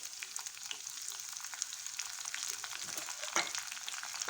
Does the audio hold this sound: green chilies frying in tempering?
yes